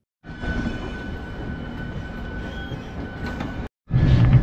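The 13005 Amritsar Mail passenger train from Howrah to Varanasi, heard as a steady rumble and rattle of the moving carriages with a faint high hum, briefly cutting out before resuming loudly.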